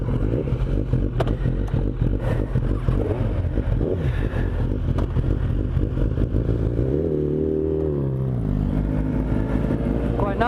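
Motorcycles setting off on a road in Thailand, a close, steady engine rumble with a revving rise near the end, and a voice talking over it.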